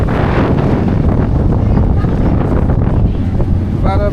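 Strong wind buffets the microphone on a twenty-minute ferry ride to Gozo island in Malta, a loud continuous rush with engine and water noise beneath.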